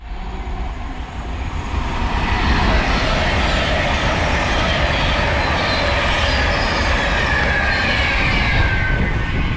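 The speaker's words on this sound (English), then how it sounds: "There goes 390 107 passing through to London Euston from Manchester Piccadilly" A Class 390 electric train passes through a station, a loud sustained rumble and rush of wheels on rails that builds in the first two seconds and then holds steady, close by and with no voices.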